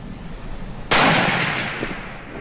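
A single loud gunshot cracks during a family deer hunt in Mississippi, a sharp blast followed by a long fading echo, close and alone with no talking.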